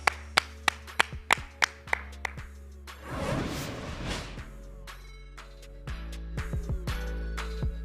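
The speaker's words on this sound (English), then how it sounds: "Clap it up." Clapping in a studio, a quick series of sharp, separate claps followed by a brief burst of louder noise, then a few more scattered claps toward the end, all fairly faint.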